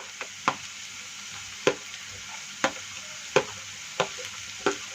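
Onion, capsicum and ginger-garlic paste sauté in a pan with a steady soft sizzle, while a spoon scrapes and stirs in sharp, evenly spaced strokes roughly every second, close and fairly quiet.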